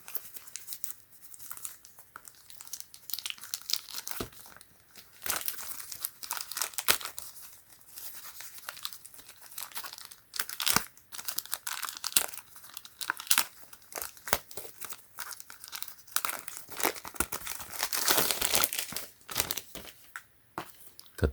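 Poetic phone case packaging for a Samsung Galaxy Note 20 being torn open and crinkled, close-up plastic and paper tearing, rustling and crunching in irregular bursts throughout, with no talking.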